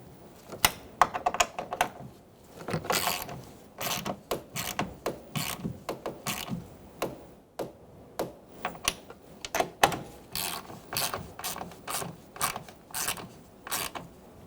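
A ratchet snugs up the side mirror nuts on a 2000-2007 Ford Taurus, giving close, quiet bursts of rapid clicking separated by brief pauses, with no talking.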